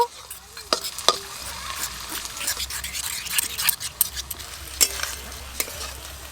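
Water poured onto a spice paste of cumin, coriander, chili and turmeric powders in a hot pan sets off a close, steady sizzle, with scraping stirs and a few sharp clinks of a utensil against the pan.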